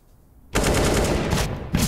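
AWP sniper rifle fire in Counter-Strike on Dust2 during a professional esports match, an abrupt loud burst after near silence followed by a sustained roaring, crackling blast with a second punch near the end.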